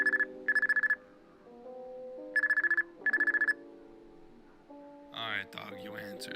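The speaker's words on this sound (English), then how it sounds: "Great, and there is our phone call." Phone ringing in a homemade Scratch Five Nights at Freddy's game, two pairs of bright electronic ring bursts separated by pauses, over a soft tonal background, followed by a voice.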